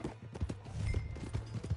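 Horse hooves clip-clop in a steady, uneven rhythm in Red Dead Redemption 2, moderately close, with a low background drone and no speech over them.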